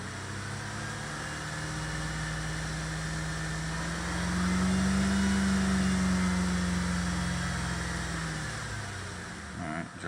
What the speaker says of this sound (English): rev up the engine and see if the light comes on.